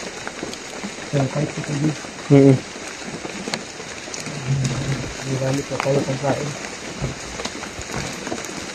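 Steady rain falls on a surface close by while people talk over it throughout.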